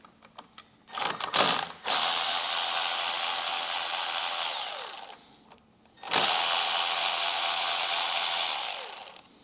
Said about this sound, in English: remove the 2 screws in the front